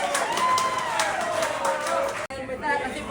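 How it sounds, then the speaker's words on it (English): An audience claps steadily at a speech event, a dense patter of applause filling the room while a voice talks over it, briefly cutting out before the clapping resumes more softly. "Big clap for Carol."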